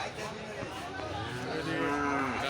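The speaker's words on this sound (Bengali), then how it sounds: "বিশাল বড় একটা গরু" A large cow moos at a busy cattle market, its drawn-out, rising call close and loud over a constant crowd murmur.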